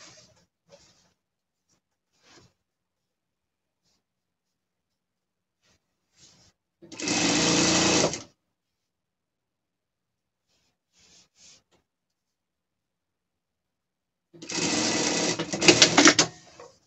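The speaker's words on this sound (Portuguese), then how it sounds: "É só você passar a overlock ou a zigue-zague." A sewing machine, overlock or zigzag, stitching fabric for a pet's gaucho costume runs in two bursts of a couple of seconds each, close and steady, separated by quiet handling noises.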